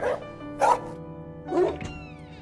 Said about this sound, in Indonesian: Tengah malam, Jacob dan Martha terbangun ketika mendengar suara anjing menggonggong